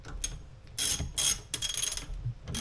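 A 1/2 inch ratchet cranks a Harbor Freight 450-pound transmission jack, giving quick bursts of close ratcheting clicks separated by short pauses.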